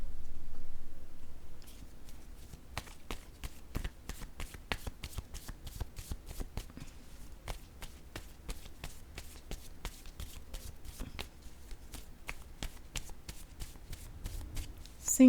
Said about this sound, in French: Allons-y maintenant avec deux cartes de mon jeu haut.